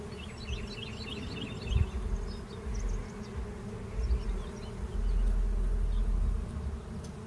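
Honey bees buzz steadily as they stream back into their hive during the 2024 solar eclipse, a dense close hum with faint higher chirps and no one speaking.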